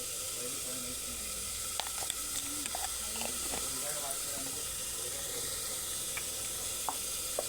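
Cumin seeds sizzle in hot oil in a pan while a stuffed brinjal curry is being made, a steady close hiss dotted with small pops and crackles.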